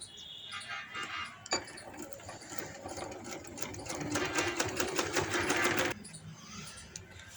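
A sewing machine stitches the seam of palazzo trousers made from a single metre of fabric in close, rhythmic runs, a short start-stop burst followed by a longer steady whirring stretch that halts abruptly.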